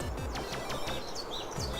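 Birds chirp in the video game Nekokoro, a run of quick, bright tweets repeating in short bursts close to the ear over a steady background hum, with no talking.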